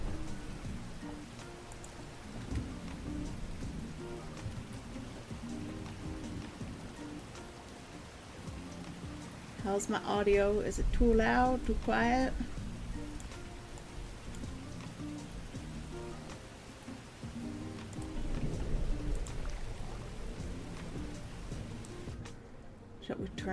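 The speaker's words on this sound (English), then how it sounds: "Shall we turn off the rain?" Steady rain ambience plays as a soft background bed during a co-working stream, with a voice talking over it; no distinct thunder stands out.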